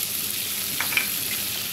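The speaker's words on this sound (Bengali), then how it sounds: "এখন আমরা পেঁয়াজ বাটা দিব" Onion paste frying in oil for a thin Sylheti katla fish curry, a constant close sizzle with a couple of faint utensil ticks.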